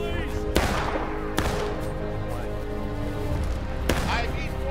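Musket volleys crack out in the Civil War shooter War of Rights during a line battle, three sharp, loud reports spaced a second or more apart over a dense din of battle noise and shouting voices.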